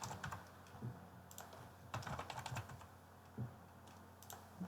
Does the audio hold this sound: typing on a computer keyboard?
yes